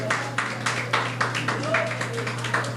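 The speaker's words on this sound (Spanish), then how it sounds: "Un aplauso al Señor, hermano" A church congregation applauding in rhythm, steady evenly spaced claps over a constant low hum, with a preacher's voice talking over the clapping.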